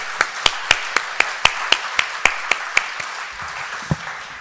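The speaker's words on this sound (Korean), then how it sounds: "축복 박수 하겠습니다." A church congregation gives a blessing applause as a series of sharp, evenly spaced claps in unison, about a dozen strong beats, before the clapping fades out.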